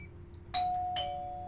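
A stop request bell sounds aboard an Isuzu Erga Mio bus in OMSI 2, giving a clear doorbell-like electronic ding-dong that rings on steadily over quiet cabin hum.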